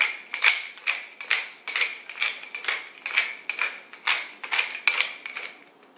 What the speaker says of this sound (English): cracked black pepper, you know, straight out of the pepper mill